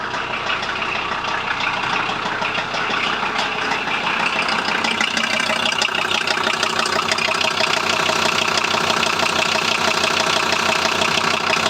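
A 1994 VW Transporter T4 engine with flywheel debris and a clutch fault runs at a steady idle, a loud continuous mechanical rumble with a faint knocking texture throughout and no voices.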